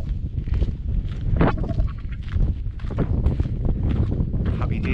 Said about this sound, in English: It's a bit breezy up here.